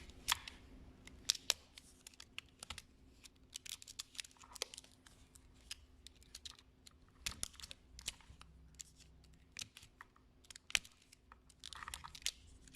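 Quiet, careful snips and crunches of a tool cutting through a plastic battery pack casing, irregular close clicks and cracks with faint handling noise in between.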